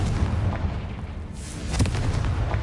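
A Confringo blasting spell explodes in a Harry Potter video game: a loud, dense, rumbling blast that fills the whole clip, dipping briefly before a second burst swells near the end.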